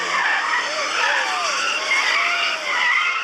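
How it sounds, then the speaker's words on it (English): Tires of a Kia car screech loudly and continuously as it drives into a festival garden area, the squeal wavering in pitch over steady engine and crowd noise. "the screeching tires of a fresh Kia can be heard driving into the gardens"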